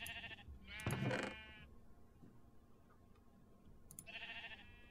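Sheep in Minecraft bleat twice, one loud wavering bleat near the start and a second near the end, with quiet game ambience in between.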